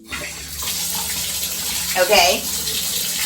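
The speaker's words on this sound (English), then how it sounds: "So it's coming out of the tub spout." Water gushing steadily from a bathtub spout just after the supply is turned back on during a DIY shower fixture update, a close, continuous hiss and splash with someone speaking briefly over it.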